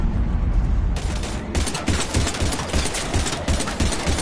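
Rapid bursts of gunfire aimed at husks in the Mass Effect video game, a dense, continuous volley of shots close by and loud, with heavy low booms beneath.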